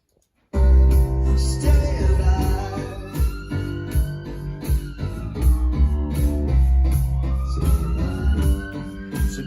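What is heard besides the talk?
ambulance siren in a song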